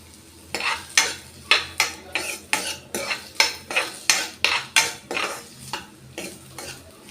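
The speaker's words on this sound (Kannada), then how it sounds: "ಒಂದು 2 ಈರುಳ್ಳಿ ಮತ್ತು ಒಂದು ಬೆಳ್ಳುಳ್ಳಿ ತಗೊಂಡು ಆಯಿಲ್ ಸ್ವಲ್ಪ ಫ್ರೈ ಮಾಡ್ಕೋಬೇಕು" Onion and garlic frying in oil for a sambar, a low sizzle punctuated by a regular series of about fifteen sharp metallic scrapes and clinks of a ladle against the pan, close up.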